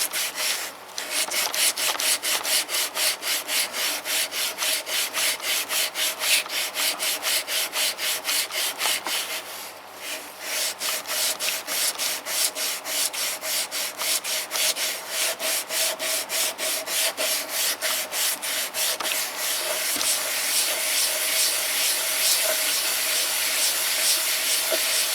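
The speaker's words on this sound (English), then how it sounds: "the reason why I'm decking this head" A small engine cylinder head is lapped flat on an abrasive surface, producing a continuous gritty rubbing hiss with rapid back-and-forth strokes, a brief pause midway, then steady scraping resumes, close and alone.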